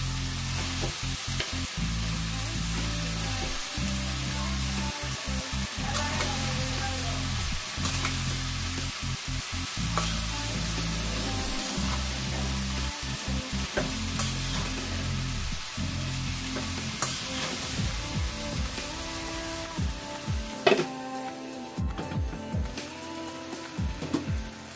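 Leafy greens (shak) sizzle and fry in a pan, stirred with steady scraping strokes; a continuous close crackling hiss runs throughout with rhythmic utensil knocks, easing slightly near the end.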